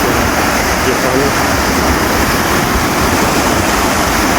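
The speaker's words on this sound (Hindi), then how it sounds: "पानी ज़ोर शोर से है, बहुत ज़्यादा दरियानी में है दरिया सिंध अपनी मौज और मस्ती में" The Indus River rushes forcefully past, a loud and steady broadband roar of turbulent water that fills the whole moment without a break. No voices rise above the torrent.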